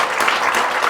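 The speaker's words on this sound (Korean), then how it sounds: "우리 같이 한번 영광의 박수 올려드릴까요?" A church congregation claps together during a thanksgiving worship service, a loud, dense burst of many hands applauding close by without speech.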